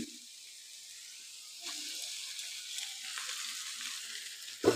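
Boiled soya chowmein noodles tipped into a hot pan produce a soft, steady sizzle and frying hiss that swells partway through and continues evenly, faint and close, with no talking.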